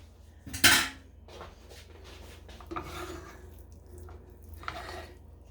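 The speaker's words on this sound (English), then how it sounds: "we're just going to go ahead and mix that in real good" A spoon works a 6-ounce can of tomato paste into sloppy joe mixture in a pot, starting with one loud metallic scrape, then softer rubbing strokes and a few more scrapes, close up with no talking.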